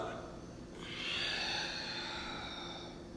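A long, audible exhale during a yoga cat-cow stretch, a soft breathy rush of air swelling after a moment and fading slowly over about two seconds, close and quiet.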